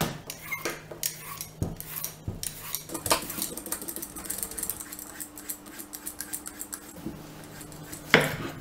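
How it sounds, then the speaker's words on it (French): Courgettes are peeled with a peeler, a run of light, irregular scraping and clicking strokes close by, with occasional knocks against the board or bowl. "On va commencer par éplucher nos courgettes."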